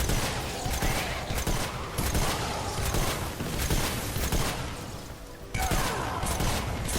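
The Scoped Dragonfly gun fires in Fortnite Save the World. Dense, rapid bursts of gunfire run almost continuously, loud and close, with a brief dip just past the five-second mark before shooting resumes.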